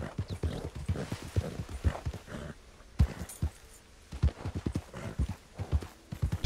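Rhythmic clip-clop of horse hooves galloping steadily at full sprint in the video game Red Dead Online, fairly close, with a brief whinny mixed in.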